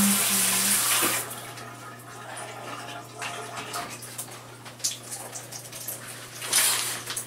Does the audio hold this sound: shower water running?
yes